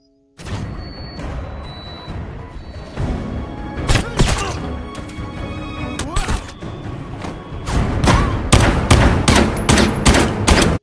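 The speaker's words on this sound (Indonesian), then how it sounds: "aksi baku tembak pun terjadi" A film shootout erupts with rapid bursts of gunfire and heavy impacts, dense and loud, building into a sustained volley toward the end, with occasional voices amid the shots.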